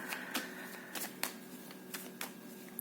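Quiet, repeated papery flicks and riffles of tarot cards being shuffled, a series of soft sharp ticks spaced unevenly, close by with no voices.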